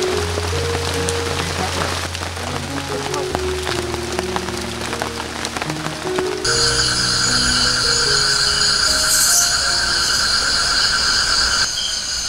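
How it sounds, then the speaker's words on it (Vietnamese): Light rain falls in a forest at a wild-bee-hunting and quail-trapping camp along a river, a steady soft patter that continues without pause, with a tonal hum joining partway through. "mưa nó cũng nhỏ xíu, bay cho vài hột à"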